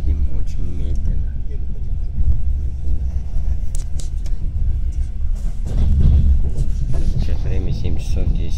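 Steady low rumble and rattle inside a Russian Railways passenger train travelling slowly from Kazan toward Krasnodar, continuous throughout with a voice talking over it.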